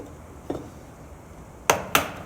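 Chisel chopping into wood to clear a cross lap joint: a faint tap followed by two sharp, loud strikes close together near the end, with quiet room tone between and no talking.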